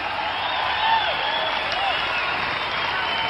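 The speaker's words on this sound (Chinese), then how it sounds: "我们应该为白金斌这样的精神鼓鼓掌" Spectators at a sanda kickboxing bout clap for fighter Bai Jinbin in a steady, dense wash of applause, with crowd noise and faint cheering woven in throughout.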